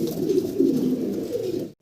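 Fancy pigeons coo close by, a loud, low, warbling coo that rolls on for nearly two seconds before cutting off, with no voices.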